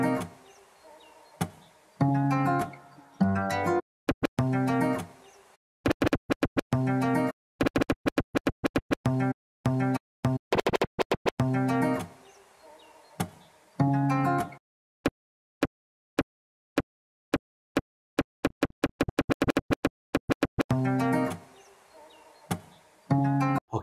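A DJ performs keyboard scratches on a controller using hot cues, producing sharp, rapid, choppy bursts of a track cut in quick rhythmic stutters with abrupt silences between, loud and alone.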